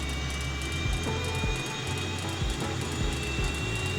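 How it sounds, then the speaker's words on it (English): A-10 jet engine in Microsoft Flight Simulator 2020 spooling up and igniting: a steady, loud turbine whine and roar holding throughout, with a high-pitched tone on top and no talking. "there you can hear it spool up and ignite"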